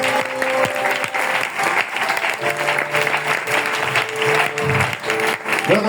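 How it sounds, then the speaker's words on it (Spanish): Applause from a church congregation during a sermon, a dense, sustained wash of many hands clapping at steady loudness for several seconds. "Yo le daría un aplauso a este Dios"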